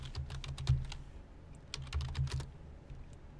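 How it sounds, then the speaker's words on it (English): Close-up typing on a computer keyboard: two quick bursts of rapid key clicks separated by a brief pause, heard alone without talk. "and you type in John Morris"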